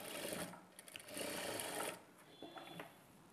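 A sewing machine stitches a blouse in bursts, running steadily, pausing briefly, then starting again at a lighter, quicker pace, close and clear with no talk.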